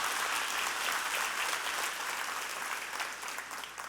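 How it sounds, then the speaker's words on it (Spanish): Church congregation applauds together, a steady, full crowd clapping that carries on evenly and eases off slightly toward the close. "Podemos darle un fuerte aplauso al Señor por eso."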